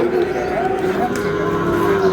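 A young Sahiwal bull calf moos in a long, low drawn-out call, close by, over a murmur of cattle market background noise.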